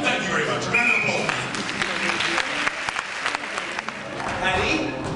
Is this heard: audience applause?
yes